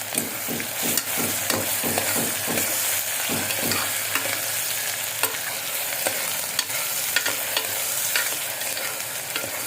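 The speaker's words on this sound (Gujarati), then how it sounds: "ત્યારબાદ આપણે જે આદુ, લસણ, મરચાંની પેસ્ટ કરી છે એ અને ડુંગળી એ બધું ઉમેરી દઈશું." Ginger, garlic and green chili paste with onion hit hot oil alongside curry leaves and cloves for a green chickpea curry, sizzling steadily while a spoon scrapes and stirs in quick rhythmic strokes, then more sparsely.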